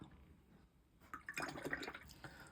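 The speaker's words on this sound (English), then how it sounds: "Wash my brush off, take the excess water off because otherwise you end up with blooms." A watercolour paintbrush swished and rinsed in a water pot, a faint burst of soft splashing and trickling that lasts about a second after a quiet start.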